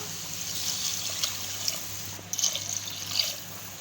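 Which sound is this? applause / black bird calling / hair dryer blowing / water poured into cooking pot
water poured into cooking pot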